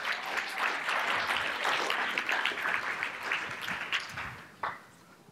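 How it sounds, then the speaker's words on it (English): An audience at a PyBay 2018 lightning talks session gives a sustained round of applause for the next speaker, dense clapping that tapers off toward the end. "let's give a great round of applause for Eric"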